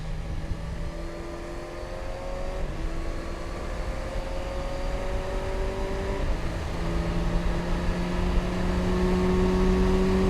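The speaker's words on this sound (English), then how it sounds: "And in sixth gear, accelerating, fantastic, to 177, 178, 180, 190." A 2019 Kawasaki Versys 1000 SE motorcycle accelerating hard in sixth gear at high speed, its engine note a steady rising drone that climbs continuously over ten seconds, with strong wind noise and no talk.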